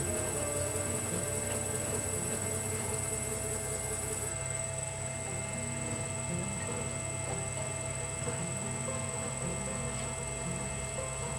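Faceting machine grinding a citrine gemstone, a steady mechanical hum with a high whine running continuously and evenly throughout, close and unbroken, with no voices.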